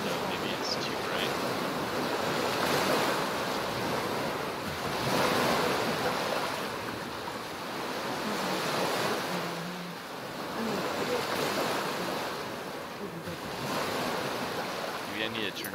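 In the video game Skyrim, waves and water ambience roll in continuous, fairly loud swells with gusts of wind, rising and falling every few seconds.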